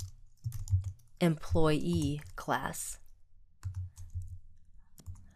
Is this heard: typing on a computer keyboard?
yes